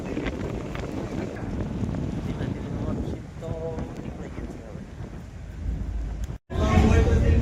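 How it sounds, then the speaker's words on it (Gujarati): Rain and gusting wind buffet the microphone aboard a Ro-Ro ferry at sea in a storm, a rough, rumbling roar with heavy low-end wash; a brief dropout near the end before loud noise resumes. "કેવો વરસાદ જમ્યો છે."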